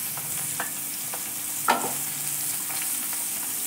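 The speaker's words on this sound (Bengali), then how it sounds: "সবজিগুলো ভাজছিলাম আমি, এক সাইডে ভাজা হচ্ছিল।" Vegetables frying on one side of a pan give a steady, close sizzle, with several short scraping stirs and one louder clatter near the middle. No one speaks.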